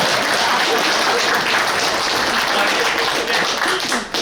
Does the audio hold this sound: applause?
yes